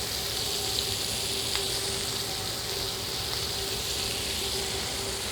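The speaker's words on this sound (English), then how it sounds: "So our onion is caramelizing in there, our scotch pepper, our garlic, our herbs." Onion, scotch pepper, garlic, herbs and meat sizzle with butter in a hot roasting pan, a steady even hiss of frying that runs unbroken and fairly quiet throughout with no talking.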